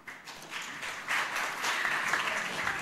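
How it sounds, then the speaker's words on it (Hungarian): An audience applauds at a literary event for editors of an anthology, steady clapping that swells after the first second and holds full and continuous, fairly close. "akik megérdemlik a tapsot bizony"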